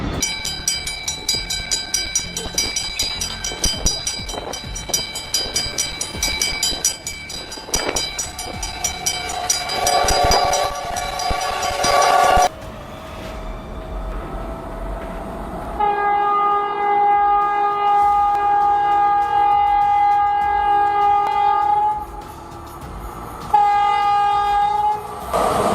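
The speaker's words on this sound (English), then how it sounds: "Trains move fast and hit hard, but luckily the driver only suffered minor injuries." A train passes with its wheels clattering rhythmically, then its horn blares in long sustained blasts with a brief gap, loud and close, apparently at a crossing where a car was struck.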